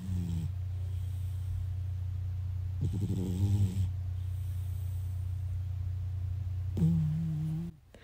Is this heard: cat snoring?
yes